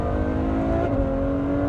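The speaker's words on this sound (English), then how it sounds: "There's the acceleration, there's that sound, which is just orchestral." A 2014 Ferrari F12 Berlinetta's engine pulls hard under acceleration, a loud, steady, rising tonal roar heard close from inside the car, with no talk over it.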